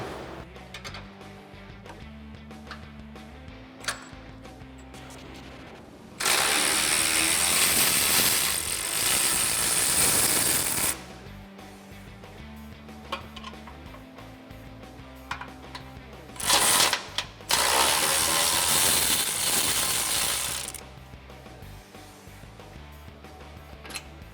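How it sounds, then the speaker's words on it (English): A ratchet fitted with an 18mm socket turns the inner bolt of an upper control arm while a 21mm wrench holds the outer nut. It gives two long, loud bursts of rapid mechanical clicking over steady background music. "we're gonna use a 21mm wrench on the outside nut and on the inside bolt, a 18mm socket on our ratchet"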